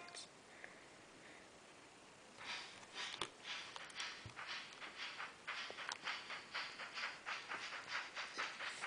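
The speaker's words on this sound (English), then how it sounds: "now we're boarding the train to the tower experience" A train in the Zelda: Spirit Tracks video game rolls along its tracks with a quiet rhythmic clickety-clack that builds into steady regular beats, alongside faint game sounds.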